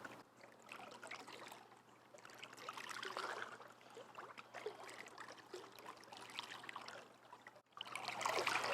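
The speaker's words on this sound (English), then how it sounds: "we'll just push the water a little side to side" Water sloshed and pushed side to side by a person doing aqua yoga in a pool, a steady swishing and trickling wash with swells and a brief dip near the end, no talking.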